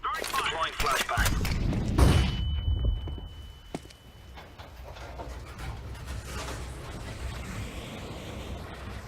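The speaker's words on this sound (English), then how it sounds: "Deploying flashbang." Flashbang grenade in a video game going off as a loud, bright burst around two seconds in, followed by a long high ringing tone and a fading wash of noise under game sounds.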